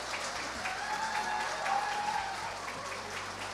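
Applause from the audience at a Korean rural award ceremony in 2025, steady moderate clapping that stays even throughout with no speech over it.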